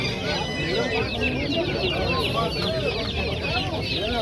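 Chickens cluck and chatter continuously at a busy poultry market in Namangan, many birds calling at once in a dense, steady din, with a rooster's crow rising faintly among them.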